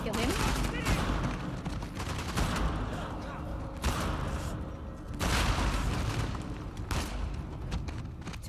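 Gunfire in the video game Uncharted: The Lost Legacy, dense bursts of shots and booms that run almost continuously, loud and close, with brief lulls and player talk over the top.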